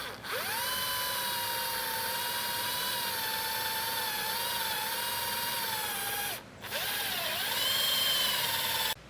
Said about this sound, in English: I'm going to set the first screw in right here. These are self-tapping.